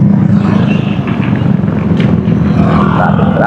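Road traffic hums on a rural road in Paombong, Malolos, a loud, close, steady engine drone with rumbling low tones and passing vehicle noise, no voices.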